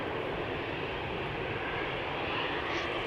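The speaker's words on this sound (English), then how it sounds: "Got 2 airplanes coming over here right now." A KLM airliner departing Amsterdam Schiphol, its jet engines giving a dense, continuous roar that swells slightly toward the end, close and loud, with no voices.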